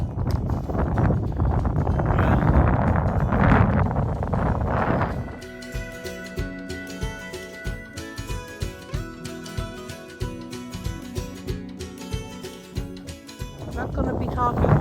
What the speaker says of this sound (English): I'm not going to be talking much because it's too hard against the wind.